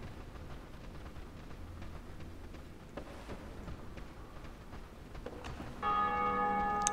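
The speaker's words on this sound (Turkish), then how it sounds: "Abi biri çan çaldı." A bell tolls in the video game Dark Souls, faint and distant at first under quiet game ambience, then a brighter ringing tone swells near the end.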